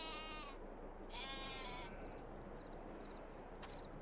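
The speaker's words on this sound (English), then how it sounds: "We bought sheep." Sheep bleating in the video game Farming Simulator 22, two drawn-out nasal bleats close by, then fainter distant bleats over a steady farm ambience.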